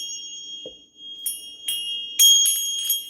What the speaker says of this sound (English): we ring the bells